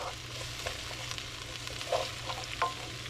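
Peppers softening in a pan for a chicken spaghetti stir fry, a steady low sizzle with a couple of brief spoon clinks and stirring sounds close by.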